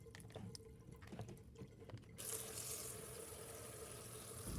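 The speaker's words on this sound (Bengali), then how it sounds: "মাছ ভালো করে ধোয়া না হলে আমি খেতে পারি না।" Fish is washed in water: light drips and splashing at first, then a steady rush of running water, close and fairly soft.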